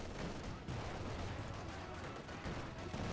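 Dense gunfire and explosive booms from a Company of Heroes 2 battle with a T-70 tank and a pak gun, layered into a continuous loud wash of combat noise with no talking.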